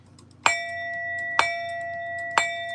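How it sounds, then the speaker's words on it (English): A bell rung three times at about one-second intervals, each strike a sharp, clear ding with a long, steady ringing tone that hangs between hits, close and alone without talk. "Let me ring the bell for you, love."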